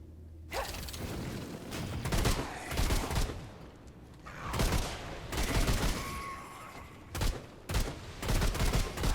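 Gunfire in the video game Remnant II, loud rapid volleys of shots and booms in several bursts separated by brief pauses, with faint mechanical clatter.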